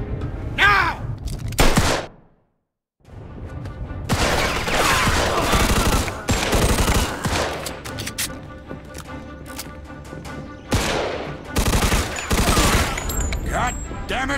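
Dense, heavy gunfire in the Mafia II video game, sustained automatic bursts and shots that stop briefly, then resume loud and continuous with overlapping clatter.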